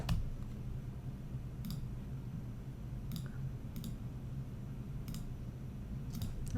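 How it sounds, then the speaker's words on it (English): Sparse keystrokes on a computer keyboard while text is typed into a form: soft, isolated clicks spaced irregularly over a steady low room hum. "now I should be able to type, and then as I type, it'll go ahead and just kind of remove whatever's there"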